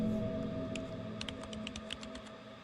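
A computer keyboard is tapped in a quick irregular burst of about a dozen light clicks, fairly faint, over a low steady hum.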